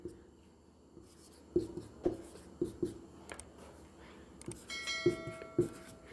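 A pen or pencil writes numbers by hand on paper during a maths lesson, making a string of short scratchy strokes and taps close to the microphone, with a faint voice talking intermittently.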